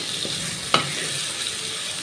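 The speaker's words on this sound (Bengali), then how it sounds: "কিছুক্ষণের জন্য আলুটাকে ভালোভাবে কষিয়ে নেওয়ার পর" Potatoes stir-fry in a pan for a chicken and potato curry, a steady close hiss of frying with a single sharp clink of a utensil partway through.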